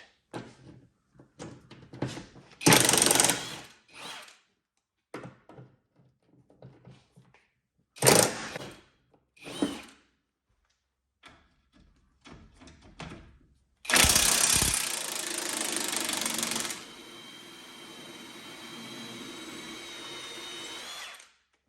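Tools remove a shock absorber from a 2009-2015 Honda Pilot: short bursts of an impact or power drill, metallic clanks and handling noises, then a long loud run of the tool tapering to a whine.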